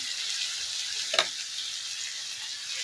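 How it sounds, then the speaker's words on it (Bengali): Taro stolons, potato and spices fry in a pan with a steady, even sizzle throughout. A single brief stir or scrape stands out once in the middle of it. "কচুরমুহি, আলু আর মশলা ভালো করে ভেজে নিচ্ছি"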